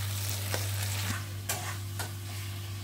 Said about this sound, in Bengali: অনেকক্ষণ ধরে কষাচ্ছি,